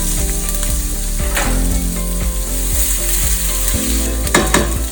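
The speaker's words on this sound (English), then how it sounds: "So I'll add the mustard seeds and keep the heat up. I'm going to add the ginger and the chili." Mustard seeds, ginger and green chili frying hard in hot oil in a home kitchen for upma, a loud continuous sizzle and crackle with occasional stirring scrapes, no voices.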